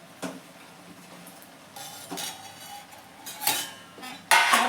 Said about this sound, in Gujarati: હવે ચડી ગયું છે, તો એમાં આપણે આમ